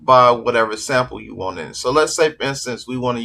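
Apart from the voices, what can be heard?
No distinct noise like a dog, phone or traffic.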